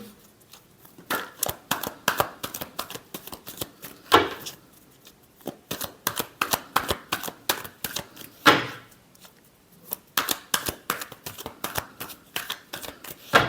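Tarot cards shuffled by hand in rapid crisp riffles and flicks, repeated bursts with short pauses between, close and clear with no talking.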